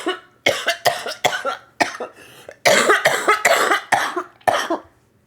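A woman coughs hard and repeatedly at close range, a run of harsh bursts with brief gaps, loud and alone without speech.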